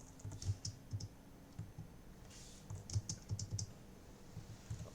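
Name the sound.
pressing spacebar on a computer keyboard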